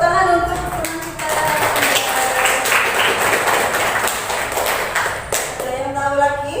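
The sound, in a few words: applause for a student in class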